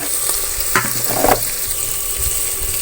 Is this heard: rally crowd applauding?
no